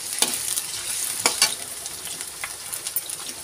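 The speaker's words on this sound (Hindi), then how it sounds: "एक साथ थोड़ा ही आलू मैं एक साथ डाल के उसको लाल कर दूँगी" A few pieces of potato fry in hot oil in a pan, with a soft steady sizzle broken by sharp scraping clicks of a spoon stirring them, close and without talk.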